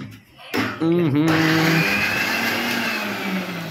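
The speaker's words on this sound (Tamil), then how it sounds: "எல்லாம் மிக்ஸில் அரைக்கணும்." A mixer grinder starts up with a sharp jolt and whirs steadily at high speed, loud and close, its motor pitch shifting slightly before settling into a constant grind.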